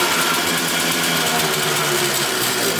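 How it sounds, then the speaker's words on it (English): A small three-wheeler engine running steadily and close, a loud continuous buzzing drone with a fine rapid pulse and no break. "Got the little 3-wheeler running."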